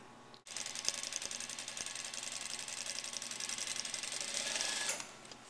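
A sewing machine stitching the princess seams of a blouse, running in one steady whirring burst of rapid needle strokes for several seconds after a brief pause, then slowing to a stop, close and clear with no talk.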